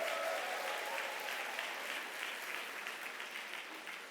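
Applause from the audience at a church summer lay retreat lecture, a steady, dense round of clapping from a large room of listeners that carries on evenly for several seconds before easing slightly, with no talk over it.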